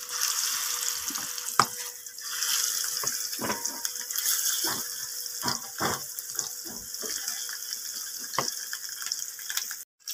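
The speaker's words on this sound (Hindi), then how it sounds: "तो हमारा तेल गरम हो चुका है, अब मछली को फ्राई करना है।" Fish frying in hot oil for a fish curry, a steady hiss of sizzling with irregular pops and crackles throughout, close and moderately loud with no talk.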